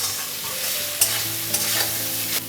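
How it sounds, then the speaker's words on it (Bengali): Soybean chunks fry in hot oil with a steady, close sizzle and bubbling hiss, broken by a few crisp clacks of a spoon stirring against the pan, with no talking. "এরপর ওই তেলের মধ্যে সয়াবিনগুলো ভেজে তুলে নেব"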